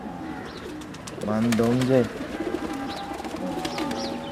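Black and blue Teddy pigeon giving a short, low cooing call close by, with soft bird chirps and a voice speaking around it.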